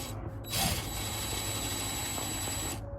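A handheld power tool runs in one steady, loud whirring burst of nearly three seconds while a lock is fitted to an Entegra coach RV door, starting and stopping abruptly with no voices.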